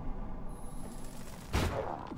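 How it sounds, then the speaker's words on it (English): A single gunshot bursts out about midway, fired at ambushing enemies in the game Vigil: The Longest Night, a short loud blast with a quick decay over a faint, quiet background. "Just shoot them right down."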